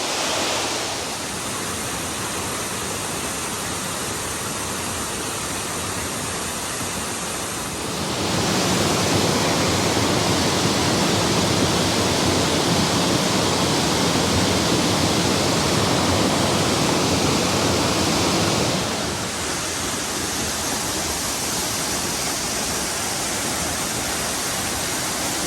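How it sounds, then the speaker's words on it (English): Ozone Falls, a 60-foot waterfall on the Falls Trail at Ricketts Glen State Park, roars as a loud broadband rush that surges even louder midway, then settles back, with no voices. "Ozone Falls, a 60-foot waterfall"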